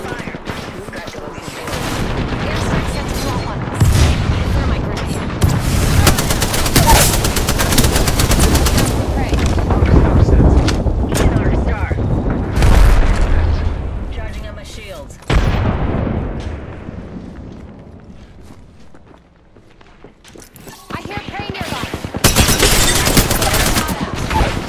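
Sustained automatic gunfire rattles through Apex Legends combat in long, loud bursts. A few short pauses separate the volleys, and a character's voice can be heard briefly.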